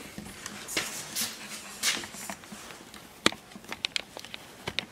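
A puppy whimpers and shuffles nearby in a workshop, with soft high whines early on and scattered light clicks and taps of paws or small movements.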